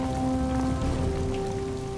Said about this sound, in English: As night falls again, rain shrouds the mountain.